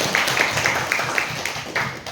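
An audience at a school event claps in a quick, steady rhythm, several loud claps in a row close by with a slight room echo.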